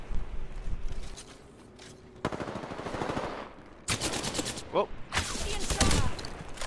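Rapid bursts of automatic gunfire in a shooter video game, loud and close, coming in several dense volleys separated by brief pauses, with a short exclaimed voice partway through.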